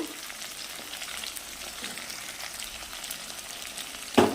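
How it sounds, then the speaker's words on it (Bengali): Potatoes fry in a pan of oil with a steady, gentle sizzle while a fish curry is prepared, ending with a sudden loud clatter of a utensil. "দেখো আলুগুলো সব লাল লাল করে ভাজা হয়ে গেছে"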